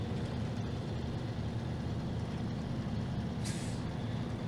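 A truck grinding along under load in the Snow Runner video game, a continuous low engine drone with one short, sharp hiss of air brakes released near the end, with no voices.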